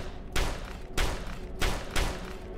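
Four loud, evenly spaced pistol shots in the Dusk shooter game, each a sharp full-range blast with a short tail, over a steady background din.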